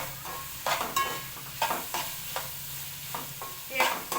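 Ginger paste fries in hot oil for an egg curry while a spoon stirs it in repeated scraping strokes, each one stirring up a burst of sizzle over a constant low hiss.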